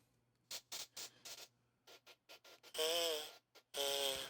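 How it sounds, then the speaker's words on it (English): Short scraping creaks of a chair come in quick bursts, then two longer, louder squeaks ring out near the end, close and without voices. "my chair was squeaking when I was recording it"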